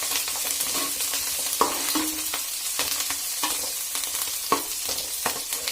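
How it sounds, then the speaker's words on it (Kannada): Oil frying steadily for a fish sambar, with a continuous close sizzle broken by occasional spoon stirs and scrapes against the pan; no voices. "ಚೆನ್ನಾಗಿದು ಎಣ್ಣೆದು ಚೆನ್ನಾಗಿ ಫ್ರೈ ಆಗಲಿ"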